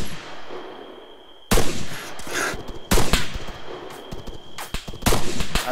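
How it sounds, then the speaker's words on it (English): Gunfire in the military shooter game Arma 3: after a quiet start, sharp loud bursts of rifle shots crack in several quick volleys, close and punchy. "Taking fire! Alright, time to return fire."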